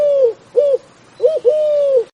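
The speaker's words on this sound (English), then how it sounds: "dove" A dove coos nearby in soft, low, rounded notes: two short coos, a pause, then a quick double coo that ends in a longer drawn-out one.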